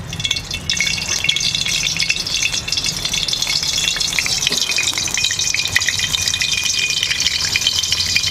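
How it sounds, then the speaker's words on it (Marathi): Whole spices crackle and sizzle in hot oil as tempering for chole masala, a moderate continuous hiss with light rattling, with no talk. "आता मी फोडणी देते."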